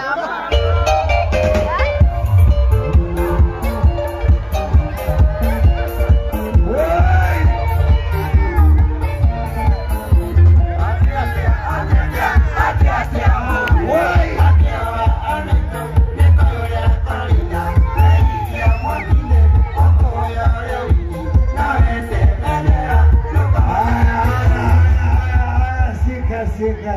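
A crowd cheers, whoops and shouts for a guest being welcomed at a lively gathering, loud and continuous throughout, with a steady low thumping beat running beneath the noise.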